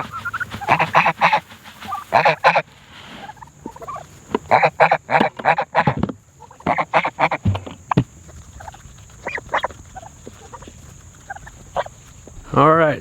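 A goose honks repeatedly nearby in loud bursts of harsh calls, with pauses between volleys, on a farm with turkeys around and a faint steady background hum.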